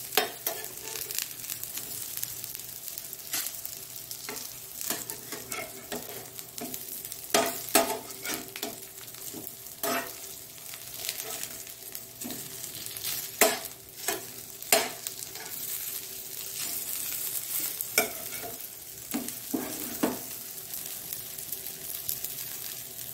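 Mangalore pathrode, a steamed colocasia-leaf roll, frying in oil in a pan: a continuous soft sizzle broken by frequent crackles and pops, with no talking.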